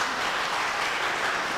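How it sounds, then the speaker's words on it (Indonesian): Steady applause from a church congregation at a Friday service, dense continuous clapping without pause. "Tepuk tangan dulu."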